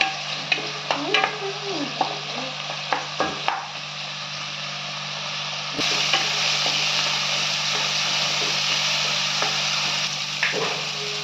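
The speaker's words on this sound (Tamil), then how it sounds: "இப்போ தக்காளி போட்டுக்கோங்க இந்த தக்காளி வதங்கட்டும்" Chopped tomatoes sauté in a pan for Dindigul chicken, with a continuous close sizzle and repeated scraping stirs and knocks, the frying growing louder partway through.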